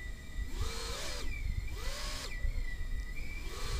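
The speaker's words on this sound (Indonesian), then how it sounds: "biasanya suara motornya pun juga halus, termasuk propellernya juga membantu ya" A BetaFPV Pavo30 cinewhoop drone with its motors and propellers spinning, a smooth whirring whine that rises and falls in repeated throttle sweeps, close and moderately loud with no talk.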